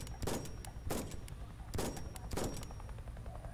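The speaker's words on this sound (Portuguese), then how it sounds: "Eu tô ouvindo alguém atirar" Gunfire in the video game Knives Out: four bursts of rapid shots spaced about a second apart, moderately loud and somewhat distant-sounding, with no talk over them.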